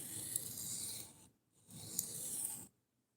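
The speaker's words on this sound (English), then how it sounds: "Just sharpening a knife at the moment and talking." A knife sharpened on a stone, two slow rasping strokes about a second long each with a short pause between, faint and close.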